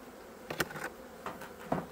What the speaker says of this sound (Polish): Jak widać, pszczół też jest dość sporo.